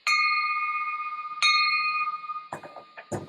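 Bell struck twice at a Rotary Club meeting to mark donations, each ring a bright metallic tone that sustains and slowly decays, followed by a few soft knocks.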